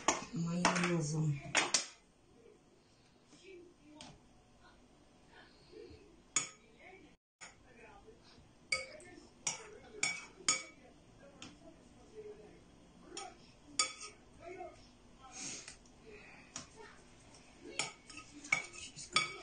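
Utensils clink and scrape against dishes while mayonnaise is spread over potatoes for a mimosa salad, a loud burst at the start followed by sparse, irregular light ticks and taps at close range.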